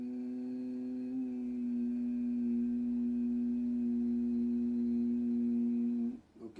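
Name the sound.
humming exhale during Shanmukhi Mudra pranayama breathing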